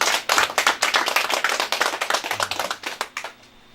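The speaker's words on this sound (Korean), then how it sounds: "감사의 그 의미로 힘차게 박수 한번 올려드리겠습니다." Audience at a church thanksgiving service applauding together, a brisk run of many overlapping hand claps that stays steady and then thins out and stops near the end, with no talking over it.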